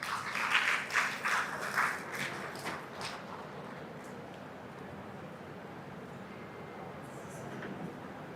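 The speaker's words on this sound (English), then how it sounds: "Let us welcome Dr. K. Tyagu with a warm round of applause." Audience at a national higher-education conference applauding to welcome a speaker, a brief burst of clapping at the start that quickly fades into room murmur and faint background voices.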